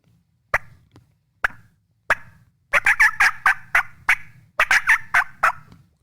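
A hen turkey gives sharp, loud cutting calls, starting with a few spaced single clucks and then breaking into rapid, excited bursts of staccato notes, up close and with no talk.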